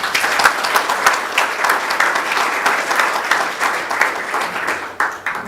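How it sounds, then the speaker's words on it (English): Audience applause for a panel at a conference session on recycled packaging, a dense, fairly loud burst of many hands clapping that holds for several seconds before thinning out near the end. "can I get a round of applause for our panel here?"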